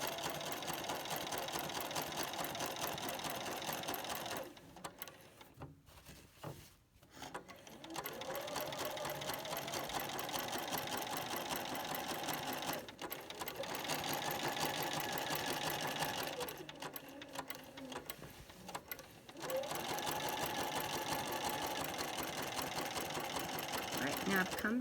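A sewing machine stitches an orange peel applique border in steady continuous runs, pausing briefly a few times for needle adjustments, with a voice talking over parts of it.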